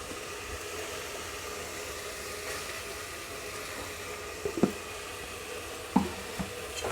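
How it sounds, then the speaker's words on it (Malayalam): Ground tomato hits hot oil and masala for chana masala, giving a steady broad sizzle with the soft scrape of stirring and a few sharp spoon taps on the pan toward the end. "തക്കാളിയും കൂടി ഇട്ട് കൊടുത്തിട്ട് നന്നായി ഒന്ന് ഇളക്കി കൊടുക്കുക കേട്ടോ"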